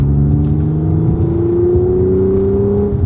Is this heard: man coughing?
no